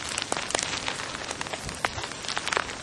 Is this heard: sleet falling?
yes